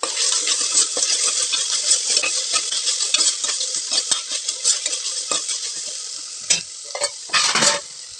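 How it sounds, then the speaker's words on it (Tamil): Mint leaves sautéed in hot oil with ginger-garlic paste give a bright, continuous hiss, dotted with frequent light spatula clicks and a few louder scraping strokes toward the end. "இப்போ புதினாவும் வதங்கிடுங்க."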